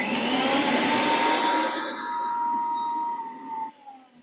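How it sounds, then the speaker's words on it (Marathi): A kitchen mixer grinder blending a mango drink, a loud, close whirring roar that winds down and stops near the end. "माईक जवळ असल्यामुळे मिक्सरचा आवाज लय येत असतलो"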